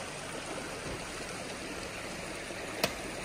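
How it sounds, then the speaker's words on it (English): Water flows steadily at a creek crossing in Dahlonega, Georgia, a soft continuous rushing that stays even throughout, with one brief click near the end. "Got this cool water crossing here."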